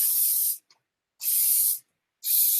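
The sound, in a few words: spritzing hair with a spray bottle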